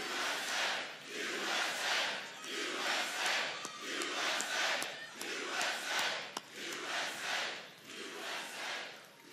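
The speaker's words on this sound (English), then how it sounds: "It's a good crowd." A large crowd at an outdoor political rally in Ohio roars and chants in rhythmic waves, swelling and dipping steadily throughout, loud and continuous with no clear speech over it.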